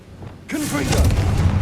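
A Confringo blasting spell in the Hogwarts Legacy video game erupts into a loud, booming explosion that swells and rumbles on, right after a brief spoken cue.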